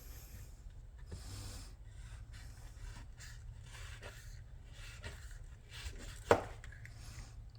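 Walmart kitchen knife slicing through steak, soft repeated rasping and cutting strokes close up, fairly quiet, with one sharper click or scrape near the end and no talking.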